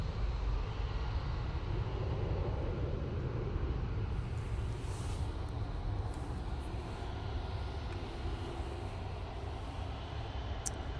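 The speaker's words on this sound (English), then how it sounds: "Emirates has started its taxi out now." An Emirates airliner taxis out at Manchester Airport, its engines a steady, broad roar that holds evenly throughout, heard from a spotting position at a moderate distance, with no other clear sounds above it.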